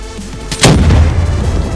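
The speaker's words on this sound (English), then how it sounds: "Oh, that just blew up." A loud, close explosion goes off in Black Ops 3, a sudden boom that opens into a deep rumbling tail lasting more than a second.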